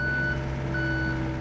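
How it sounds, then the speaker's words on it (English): A water repair crew truck's reversing alarm gives two steady electronic beeps over a constant low engine rumble. "I've gotten used to the beeping and hardly even hear it anymore"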